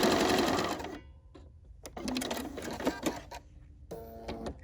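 A sewing machine runs a decorative mirrored stitch in several close bursts of rapid mechanical chatter, broken by short pauses. The sound is near and clear, with no talking over it.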